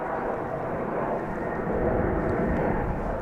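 Finnair airliner from Helsinki touching down at DFW airport, a steady broad jet roar heard from a distance that swells slightly toward the end.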